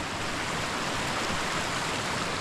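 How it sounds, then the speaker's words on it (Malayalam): Water runs over small rocks in a stream flowing through a house yard at Panayam, a steady, dense, close rushing hiss with no pauses and no voices. "ചെറിയൊരു കുഞ്ഞൊരു പാറക്കെട്ടിന്നൊക്കെ വെള്ളം ഇങ്ങനെ ഒഴുകി വരുന്ന നല്ല ഭംഗിയുള്ള സ്ഥലം"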